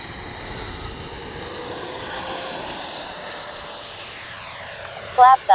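Freewing 90mm Zeus RC jet flying, a steady high turbine whine sweeping in pitch as it passes overhead, with someone speaking over the engine noise.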